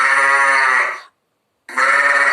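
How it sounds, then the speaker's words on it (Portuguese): Two loud, close sheep bleats, each a sustained quavering cry separated by a brief silence. "Era a ovelha."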